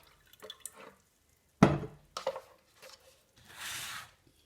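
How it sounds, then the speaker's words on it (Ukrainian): Water poured from a container into a small watering can while preparing to soak orchid roots in a zircon solution, a few short irregular splashes and drips with quiet pauses between them. "Переливаю поливалочку."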